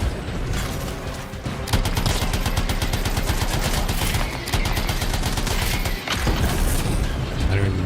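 A light machine gun in the video game Anthem fires in long sustained bursts, rapid loud mechanical rattling with brief pauses between strings of shots.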